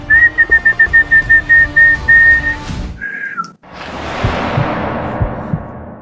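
A person whistles a run of short, evenly spaced notes, then a couple of brief higher whistles, followed by a rising whooshing noise.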